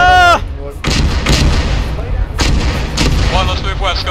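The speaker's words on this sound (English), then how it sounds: "Artillery never lands in the same place twice." Heavy artillery rounds boom and explode in a military video game, with several loud blasts spread through a few seconds as players shout and talk between the hits.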